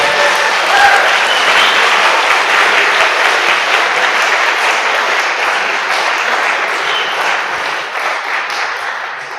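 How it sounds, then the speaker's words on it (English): Sustained audience applause in a lecture hall during a space week event at KU Leuven, a dense, loud, continuous wash of many hands clapping that holds steady for several seconds before easing slightly at the end. "a warm thank and again a warm applause for the organizers of this day."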